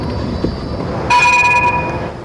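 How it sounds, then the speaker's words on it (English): A Nottingham NET tram running through the city centre on its first public run, with a steady rolling rumble and a bright sustained horn or warning tone that starts partway through and holds for about a second. "the first tram for 67 years runs through Nottingham city centre"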